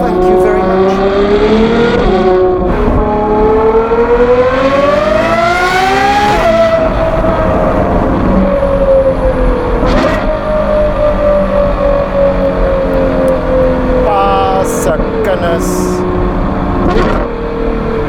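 A Novitec Ferrari 812 GTS with the N-Largo exhaust and its 840-horsepower V12, revving loudly through rising and falling gear sweeps, heard close and continuous with talk over it.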